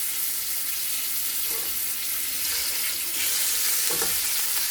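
Frozen chicken thighs frying skin side down in olive oil in a big skillet, a steady loud broadband sizzle and crackle throughout with occasional shifts as the pan settles.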